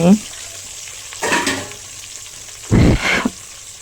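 Okra pieces, onion and green chilies tossed into a hot pan with dried red chilies and curry leaves for an okra tamarind stew, giving two short bursts of sizzling and stirring over a quiet hiss.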